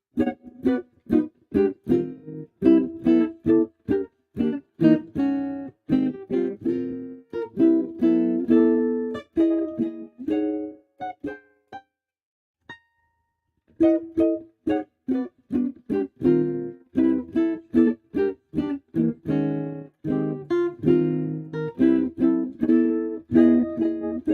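Jazz chords following a well-known cycle of chord changes are struck in a lively, rapid sequence, shifting keys constantly, with one short pause midway; played close with no talk.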